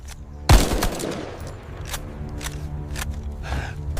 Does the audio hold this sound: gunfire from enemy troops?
yes